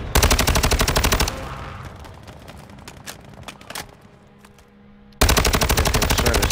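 Machine gun fire in Call of Duty: Modern Warfare II comes as loud, rapid automatic bursts at the start and end. Between the bursts, quieter scattered shots and impacts sound farther away.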